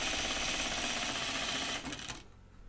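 A sewing machine runs steadily, stitching fabric for a Tibetan chupa from a Folkwear pattern, its fast rhythmic whir close and loud before it slows and stops near the end.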